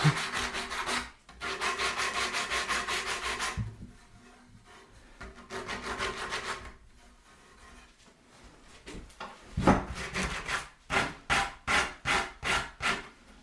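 Rough, scratchy rubbing strokes across wood, in long steady passes and then quicker back-and-forth scrubbing, close and fairly quiet.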